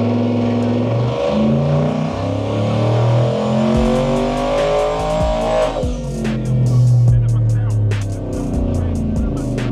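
A nitrous and turbo Ford F150 daily driver revving hard on a dyno, the engine climbing through a long loud pull with rising whine, then shifting into a higher roaring phase with sharp intermittent bangs, close and powerful throughout.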